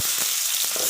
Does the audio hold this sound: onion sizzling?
yes